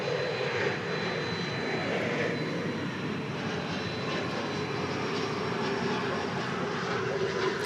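American Airlines Boeing 777-200ER jet airliner at an airport, its engines roaring steadily and loudly throughout with no talk.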